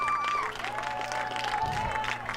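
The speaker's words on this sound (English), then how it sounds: "The claps, the noise, the enthusiasm." A crowd claps and cheers at the 2024 Division III college ultimate championships women's semifinal between Portland and St. Olaf, a dense wash of applause and scattered whistles and shouts heard from a distance.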